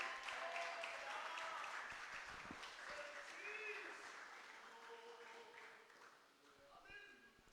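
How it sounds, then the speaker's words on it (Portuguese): A church congregation applauds, a faint broad wash of clapping that slowly fades, with voices heard over it and a few brief sung or spoken tones near the end. "vamos aplaudir o Senhor bem forte nessa noite"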